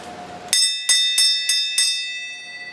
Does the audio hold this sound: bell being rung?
yes